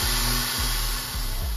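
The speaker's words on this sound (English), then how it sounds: "drilling out the center so that now this can be mounted as the support frame for the tactile transducer" A power drill bores out the center of a plastic frisbee with a loud steady whine that dips briefly in pitch twice as the bit bites, running continuously and close up.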